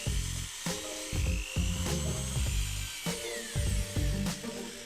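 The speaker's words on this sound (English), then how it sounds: "It's nothing more than a chunk of plastic, so drill it out" A drill whines at high pitch in repeated bursts, biting into a Mitsubishi i-MiEV's plastic shifter trim with rough grinding pulses between short pauses.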